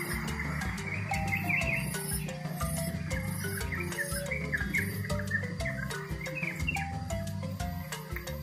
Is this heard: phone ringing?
no